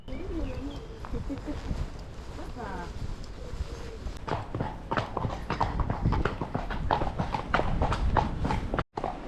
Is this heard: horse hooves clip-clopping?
yes